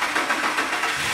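A car engine running at idle, a steady broadband hum with a faint hiss, continuous and fairly loud with no talking.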